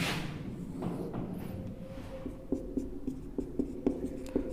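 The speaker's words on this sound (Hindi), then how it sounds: "देखो यहाँ लिख देता हूँ मैं इसके" Chalk or marker writing on a board, with a series of short tapping strokes and scratches close by, growing more rhythmic toward the end over a low room hum.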